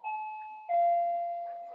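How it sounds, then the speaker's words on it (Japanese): Doorbell chime indoors, a clear two-tone ding-dong: a higher note followed by a lower sustained note that slowly fades, moderately loud and alone. "ピンポンが鳴ったんだけどね"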